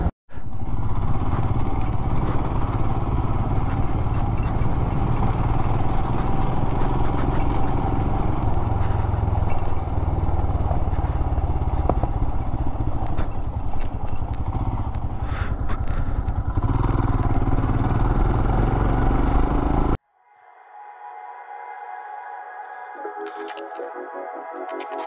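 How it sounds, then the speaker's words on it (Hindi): A motorcycle rides over rough, potholed road with a steady, loud engine drone and occasional clatter. After about twenty seconds it cuts abruptly to a quieter, different sound. "हमने बाइक ली है खड्डों में कूदाने के लिए।"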